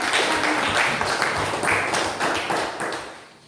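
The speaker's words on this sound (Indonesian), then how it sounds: "Tepuk tangan dulu" A classroom of pupils claps together after a correct multiplication answer, a dense, steady burst of many hands close by that fades slightly toward the end.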